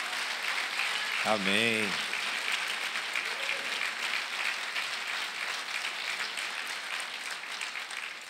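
A crowd at a pastors' gathering applauds steadily throughout, a dense wash of clapping, with a single voice briefly calling out near the start.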